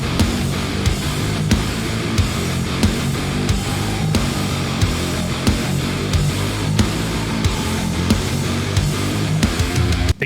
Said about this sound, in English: today I'm going to be showing you how to use cab IRs to make your guitar sound like this.